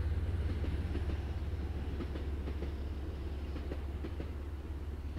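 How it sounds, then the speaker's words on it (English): A train rolls past close by with a low continuous rumble and faint rhythmic clacking, steady throughout and heard alone. "there's a train going behind me"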